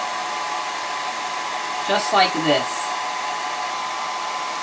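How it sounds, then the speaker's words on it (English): A hair dryer blows steadily to dry watercolor paper, a constant broadband whoosh throughout, with a brief spoken phrase partway through. "blow drying the paper until it is fully dry."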